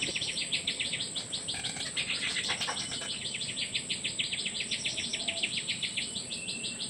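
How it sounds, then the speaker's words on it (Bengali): Two common myna birds call near a village, their repeated bright chirps over a dense, steady trill of insects in the background. "দুইটি শালিক পাখি কত সুন্দর করে ডাকছে।"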